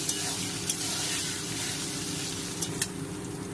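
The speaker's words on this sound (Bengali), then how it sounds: "তেলে আমি শুকনো লঙ্কা পাঁচফোড়ন ফোড়ন দিয়ে বেগুন বেগুনটাকে দিয়ে দিচ্ছি" Eggplant pieces fry in hot oil tempered with dried chili and panch phoron, making a continuous close sizzle and hiss with a few faint stirring clicks.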